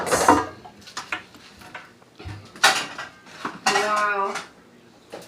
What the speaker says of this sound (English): So let me go up in here and grab me a skillet.